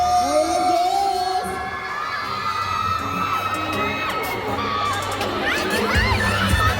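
Packed mall meet and greet crowd for volleyball player Ran Takahashi at SM Megamall, shrieking and cheering in high-pitched waves with sustained screams and whoops, loud and close, rising again near the end.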